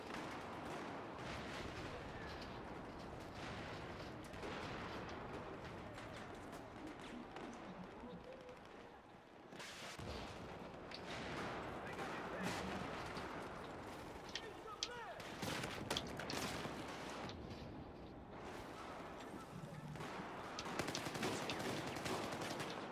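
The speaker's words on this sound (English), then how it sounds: "Oh, I just hear a shotgun guy with a gun I don't even own." Battlefield 4 multiplayer combat rings with shotgun blasts and rolling gunfire, a dense, continuous barrage near and far, with a player's voice talking over the din.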